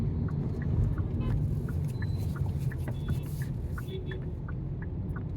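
Hyundai Verna 1.5 MPI sedan making a U-turn, heard from inside the cabin as a steady low road and engine rumble with faint ticking, no talk over it.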